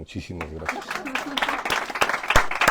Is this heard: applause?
yes